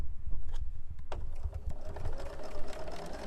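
A BERNINA sewing machine lowers its needle with a few soft mechanical clicks and a low motor hum, close by and alone.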